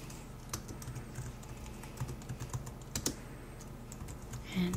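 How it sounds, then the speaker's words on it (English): Fingers tap softly on a computer keyboard in a quiet, close-up setting, giving an uneven run of light clicks with a slightly louder cluster near the end. "I'll go ahead and type that in."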